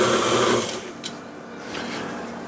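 Electric mixer whipping mashed potatoes with heavy cream, a loud, steady motor whir close by that eases slightly after the first half-second and holds a continuous drone, with no speech.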